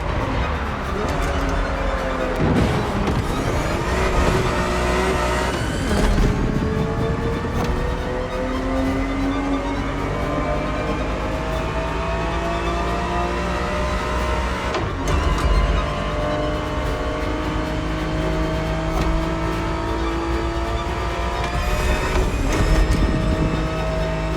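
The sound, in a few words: Ferrari 365 GTB4 engine driving in video game The Crew Motorfest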